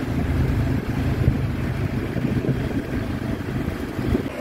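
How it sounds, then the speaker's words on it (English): A tuk-tuk ride gives a steady low engine rumble mixed with road and wind noise throughout, with no voices. "Obviously, we have to go in a tuk-tuk."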